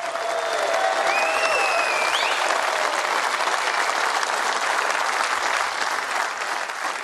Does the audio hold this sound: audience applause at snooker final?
yes